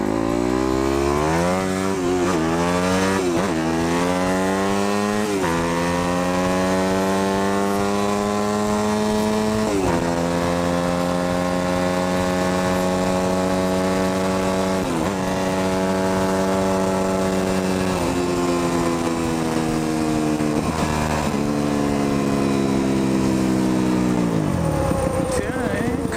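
A Kawasaki KLR 650 engine runs after an exhaust repair, loud and close, its pitch rising and falling through a series of revs with a steady idle in between.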